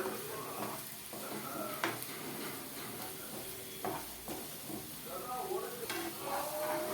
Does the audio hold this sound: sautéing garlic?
yes